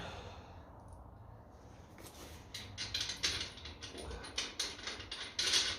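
Metal clicks and ratcheting taps of a bolt being run onto a wheel of a 1954 Ferguson TEF 20 diesel tractor, a series of close, irregular mechanical bursts over a quiet workshop background.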